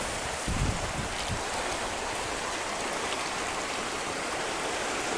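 Creek water flowing steadily with a broad, even rushing wash, close and continuous, with a brief thump early on.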